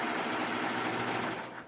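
Sewing machine running its automatic rethreading, a short, rapid mechanical whirring and clatter, fairly quiet and close with no voices.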